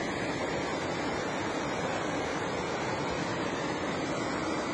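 A clear mountain river rushes beneath a small footbridge, roaring steadily and loudly, a continuous broad wash of flowing water with no pauses or voices.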